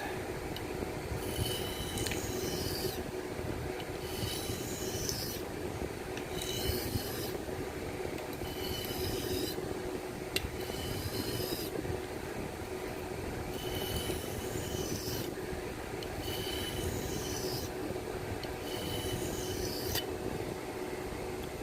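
A knife blade is drawn repeatedly across a sharpening stone to raise a burr, giving a steady series of rhythmic, close scraping strokes with brief pauses between passes, with no talking.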